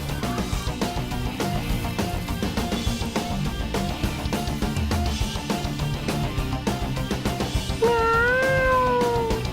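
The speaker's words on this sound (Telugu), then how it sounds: "ఇంకో పిల్లి కూడా దూరిందా?" Cats meow loudly and repeatedly indoors in a house, with several plaintive calls and a long, drawn-out yowl near the end, and no voices.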